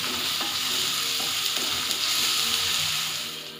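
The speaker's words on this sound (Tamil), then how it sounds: "இஞ்சி பூண்டு பேஸ்ட்டு நல்லா பச்சை வாசம் போகிற அளவுக்கு நம்ம நல்லா கைவிடாமல் கலக்கி விடலாங்க." Ginger garlic paste sizzles steadily in a hot pan on low flame for a green chicken curry, with a bright, continuous frying hiss and soft scraping as it is stirred. It sounds close, and no one speaks over it.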